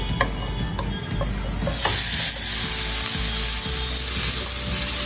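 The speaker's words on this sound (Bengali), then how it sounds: "এবার আমার মূলোগুলো এর মধ্যে দিয়ে দেবো।" Steamed radish pieces go into a pan of hot oil tempered with nigella seeds, setting off a bright, steady sizzle with scattered utensil clicks and stirring scrapes near the mic.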